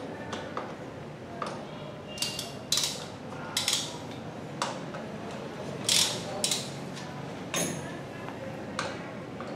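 Hydraulic brake caliper bolts, size 10, being loosened with a ratcheting tool, giving a series of irregular metallic clicks and creaks spread across the clip over a steady background, close by.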